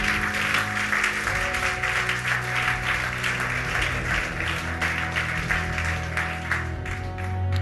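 A church congregation stands and applauds the Lord during a worship service, with dense, sustained clapping from many hands filling the room at a steady, lively level throughout.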